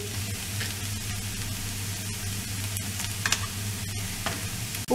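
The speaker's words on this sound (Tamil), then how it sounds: "உப்பு சேர்த்து நல்லா கலரிக்கலாம்." Potato masala stirred as it fries in a pan, a steady close hiss and sizzle with light scraping running throughout, ending in a brief louder clatter.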